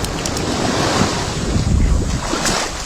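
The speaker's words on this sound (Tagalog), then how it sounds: "Ang bumalik ang dagat." Sea waves washing back onto the shore, loud and close with a rushing, surging wash and strong wind buffeting the microphone throughout.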